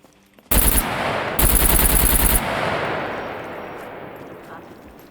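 Heavy automatic gunfire in the SCUM survival game erupts in two loud, rapid bursts, the second about a second long, followed by a fading echoing tail.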